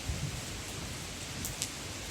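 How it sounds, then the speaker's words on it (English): Rain falling steadily at a bonsai nursery in autumn, a dense, even hiss of drops on leaves and surfaces, with a couple of brief sharper drips near the end. "it's a rainy, wet, miserable day"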